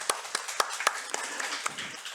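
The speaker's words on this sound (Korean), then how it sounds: "김옥경 권사님 격려 박수하겠습니다" A church congregation gives a short round of encouraging applause, with scattered, fairly faint claps that thin out over a couple of seconds.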